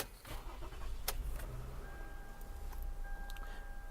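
A 2011 Toyota Sienna LE minivan starting up from the driver's seat: a brief crank and catch, then a quiet steady idle with a faint electronic chime tone, heard close inside the cabin.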